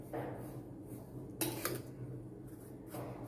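Edible gum (gond) mixture is stirred in a pan, heard as quiet scraping and soft rubbing with one brief clatter of a utensil against the metal partway through.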